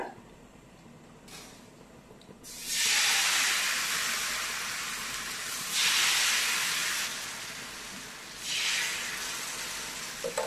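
Neer dosa batter poured onto a hot oiled tawa sizzles in loud, steady hissing bursts that swell and ease three times, close by and with no speech.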